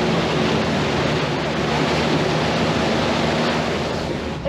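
A vehicle pushes through a stream on a rain-flooded trail, giving a continuous loud wash and rush of water that holds steady throughout without a break.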